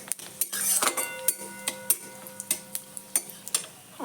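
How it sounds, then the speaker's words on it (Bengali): Dried red chilli and panch phoron stirred in hot oil in a pan, a spoon scraping and clinking against the metal in a steady series of sharp taps over a faint sizzle, close and moderately quiet. "তার মধ্যে দিয়ে দেবো একটা শুকনো লঙ্কা আর দেবো একটু পাঁচফোড়ন, দিয়ে একটু নেড়ে নিয়ে"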